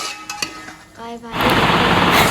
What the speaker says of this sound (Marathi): आता त्या चिकनला आपण व्यवस्थित परतून घेऊयात.